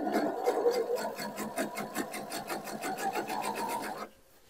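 Sewing machine running a topstitch around the edge of a baby jumpsuit seam, a steady rapid mechanical needle rhythm held evenly for about four seconds, then stopping abruptly.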